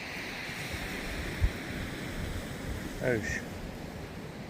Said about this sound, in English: The wind's blowing.